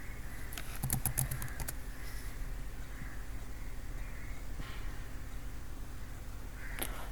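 Typing a MATLAB integral command on a computer keyboard, a quick burst of close key clicks early on followed by a few isolated taps, over a steady background hum, with no speech.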